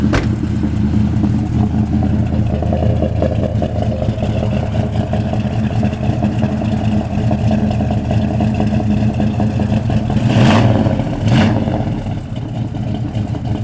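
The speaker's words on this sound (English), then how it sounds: "Car's got great rumble." A 1970 Plymouth Duster V8 idles with a deep, steady rumble close by, and two brief sharper mechanical bursts come late in the run.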